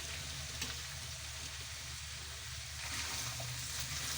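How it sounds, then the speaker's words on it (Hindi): Potatoes and minced meat for aloo keema cooking in a kadai, a steady low sizzle and frying crackle with occasional stirring clinks, fairly faint and without speech. "तो इसे हम 10 मिनट के लिए पका लेंगे, आलूओं को और कीमे को।"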